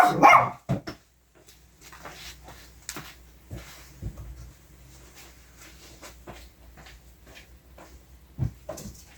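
A small Shih Tzu dog barks indoors, a loud burst at the start followed by scattered quieter yips and barks spread across the stretch, with household handling noises between them.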